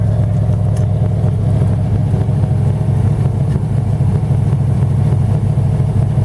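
A 1940 Buick straight-eight engine idles steadily at its first start in 30 years, a loud, continuous low rumble with a slightly uneven, lumpy pulse and no voices over it.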